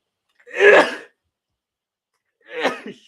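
Two sharp sneezes burst out separately with a pause of silence between them, the first louder and fuller, the second a little softer, both close and with no talk around them.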